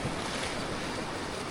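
Strong ocean waves surge and wash in a continuous, roaring rush of broadband water noise mixed with wind buffeting the microphone, loud and close throughout.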